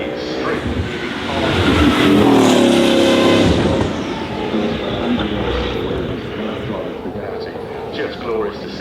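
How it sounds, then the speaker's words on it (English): A Bugatti Bolide's 8-litre quad-turbo W16 engine at full throttle, a loud roaring pass that swells to a peak and then recedes, with a voice talking over it. "That Bugatti as well, the last car from there with the 8-litre W16 turbo charged engine, so that is something to behold."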